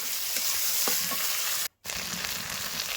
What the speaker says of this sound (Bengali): এবার সেই তেলের মধ্যে দিয়ে দিয়েছি পেঁয়াজ কুচি, আর এখানে দিয়ে দেবো টমেটো কুচি।